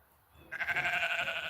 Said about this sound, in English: those are the sheep making the noise that are doing that